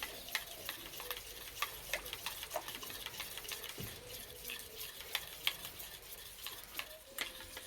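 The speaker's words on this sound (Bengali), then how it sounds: "একটু সময় ধরে ভালো করে মিশিয়ে নেব।" Mustard paste spice mix stirred into sour yogurt in a bowl, a soft wet churning with a rapid, uneven run of light spoon taps and clicks against the vessel, quiet, close and without speech.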